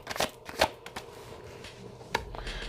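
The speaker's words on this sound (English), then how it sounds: "Let's pull some cards on these." Tarot cards for a pick-a-card reading are shuffled close by in a few quick riffling bursts, with softer handling sounds in between.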